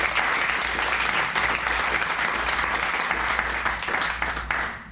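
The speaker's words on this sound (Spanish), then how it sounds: "Denle un aplauso al Señor." Church congregation applauding in praise during a Spanish-language sermon, dense sustained clapping from many hands filling the room for the full stretch, steady and fairly loud with no speech over it.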